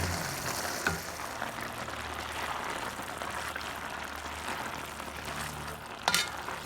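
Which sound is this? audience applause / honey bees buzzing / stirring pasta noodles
stirring pasta noodles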